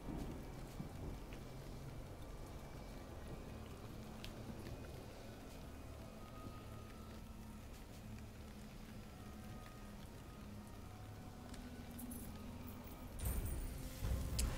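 Steady, dense rain hisses continuously in Curse of the Dead Gods, with a low rumble underneath like distant thunder and a brief louder swell near the end.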